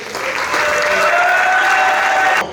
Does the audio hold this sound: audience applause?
yes